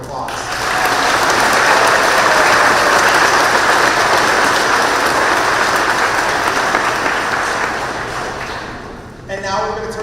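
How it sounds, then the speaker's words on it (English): An audience at a school promotion ceremony claps loudly and continuously for about nine seconds in a large space, honouring school staff, and the applause fades out at the end. "Let's take one more minute and recognize them all with a round of applause"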